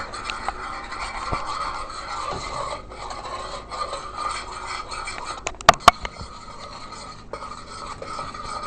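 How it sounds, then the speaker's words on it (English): Butter and brown sugar being mixed in a pot on the stove for a chocolate dessert, giving a steady close rasping, rubbing scrape throughout, with a few sharp clinks near the middle. "we are right now mixing the butter and the brown sugar"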